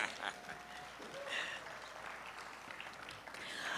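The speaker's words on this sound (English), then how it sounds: "Can we give him a round of applause?" Audience applause at an International Women's Day celebration, a steady wash of clapping from a moderately sized crowd, fairly faint and continuous throughout.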